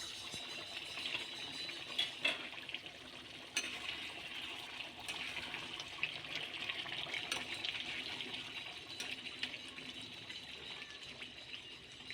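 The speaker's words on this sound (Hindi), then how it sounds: "अब आधा लीटर पानी शामिल करेंगे।" About half a litre of water is poured into a cooking pot of spicy beef kidney and liver, a continuous splashing gush that runs steadily with small bursts, close and moderately soft, with no talk.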